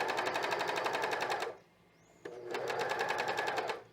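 A cover stitch machine sews fold-over elastic onto fabric in two loud, steady, rapid bursts. A short pause between them carries a faint squeak and click.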